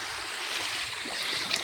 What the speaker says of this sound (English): Calm. I'd say calm waters. You got like really light waves.